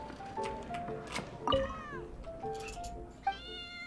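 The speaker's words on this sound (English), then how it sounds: "The cat on here's meowing, I didn't realise." A cat meowing indoors, several short rising and falling meows spread across a few seconds, fairly close and clear, with a faint background hum and a brief click.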